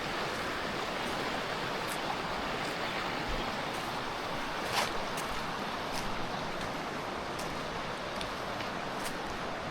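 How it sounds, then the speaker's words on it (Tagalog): A river flows beside a campsite, a steady, faint broadband rush of water continuing evenly without breaks, with no voices over it. "Ito yung ilog."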